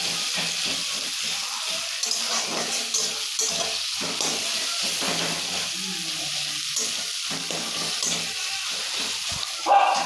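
Vegetables and crushed garlic fry in a pan with a steady, close, broadband sizzle that runs for the whole stretch, with light clatter from stirring now and then.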